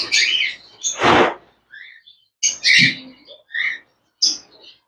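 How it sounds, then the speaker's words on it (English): Caged birds at a flea market chirp and whistle close by in short, separate bursts of bright calls, with a brief squawk and scattered tweets breaking up the quiet gaps. "And then they got lots of birds."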